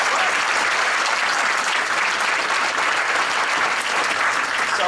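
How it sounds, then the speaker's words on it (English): Sustained applause from a conference audience, steady and dense, filling the room without a break and with no voices on top. "So give Laura a round of applause."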